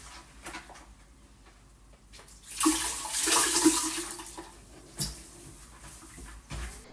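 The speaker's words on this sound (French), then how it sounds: "pour garder votre eau de rinçage propre, utilisez tout simplement une bassine pour rincer l'éponge" A sponge is rinsed in a basin of water, with scattered splashes and drips building to a fuller sloshing burst in the middle, then tapering off into a few isolated splashes. No one speaks.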